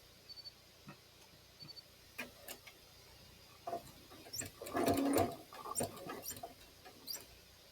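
A sewing machine makes a few back stitches on quilt binding: soft, scattered ticks and short mechanical runs, faint and close, with a louder whirring burst near the middle.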